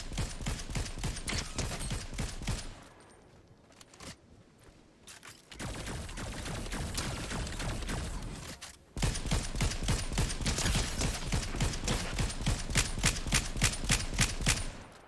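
Rapid, rhythmic automatic weapon fire in a Fortnite match, loud sustained bursts broken by brief pauses and a quieter stretch, then a heavier, steady volley to the end.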